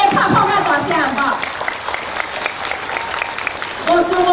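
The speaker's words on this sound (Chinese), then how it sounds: "如果能同意，拍拍拍掌声好不好？" Crowd applause at a DAP ceramah political rally in Malaysia, a sustained burst of clapping from the audience, with a voice over it at the start and again at the end.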